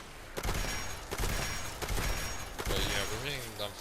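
Suppressed gunfire from Fallout 76 pops in a few quick bursts with short gaps, someone talking over the shots throughout.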